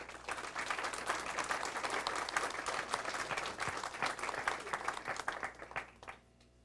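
An audience gives a sustained round of applause to welcome a guest at an academic event in Mexico, with dense clapping throughout that fades out at the end.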